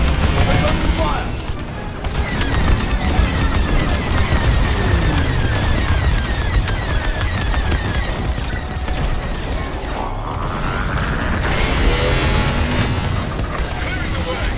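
Starfighters opening fire in the Star Wars Squadrons video game, a dense, loud barrage of booming blasts and explosions mixed with rapid laser fire, continuing throughout with a voice speaking over it.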